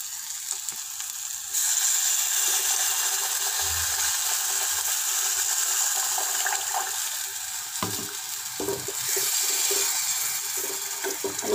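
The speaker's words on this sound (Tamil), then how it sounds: "இப்போ புளி ஊற்றிக்கலாம்." Tamarind water poured into a pan for pepper rasam, a steady broadband watery hiss that runs continuously at moderate loudness, with a few small clinks and scrapes toward the end.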